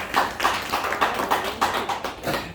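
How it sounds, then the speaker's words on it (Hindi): Audience applause at a Modicare meeting, a hall crowd clapping in rhythmic bursts of sharp taps, fairly near and steady, rising and falling in waves over a couple of seconds. "बहुत जोरदार तालियां बजाइए सबके लिए"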